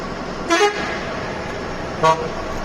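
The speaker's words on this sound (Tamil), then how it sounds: "டனல் உள்ள வந்தால் ஹார்ன் அடிக்கணும்" Two short honks from a truck horn, about a second and a half apart, over a steady rumbling drone of traffic echoing inside a tunnel.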